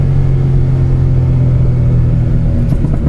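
A turbocharged Mini engine held at high revs on the limiter, a loud, steady, continuous droning roar with a slight stutter near the end, heard close up with no talking.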